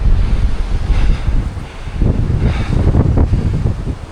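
Strong gusty wind roaring around a climber high in a tree, a loud continuous rush with surging gusts close to the microphone and no talking.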